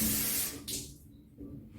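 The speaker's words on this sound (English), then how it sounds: "And then we're gonna spray, like y'all said, in some areas." A spray bottle of neem oil hisses in a couple of short, close bursts, with a brief pause between them.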